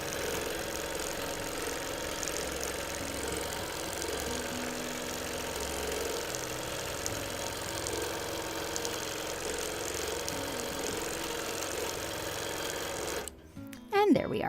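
A sewing machine stitches free motion quilting on a baby quilt, running a steady fast mechanical hum throughout before stopping abruptly near the end with a short clunk.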